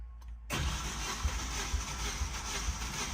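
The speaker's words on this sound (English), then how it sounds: "You want to crank it? Hold it wide open." A 2G DSM Mitsubishi Eclipse GSX engine cranks over, held wide open during a compression test, with a loud, steady churning drone that starts abruptly after a brief quiet moment and continues without catching.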